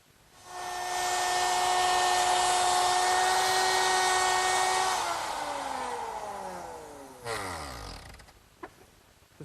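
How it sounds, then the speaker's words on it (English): A wood router fitted with a 1/4 inch slot cutting bit cuts slots into table rails, a loud steady high whine that spins down and stops, followed by a few faint clicks. "The slots are cut in the rails using a 1/4 inch slot cutting bit"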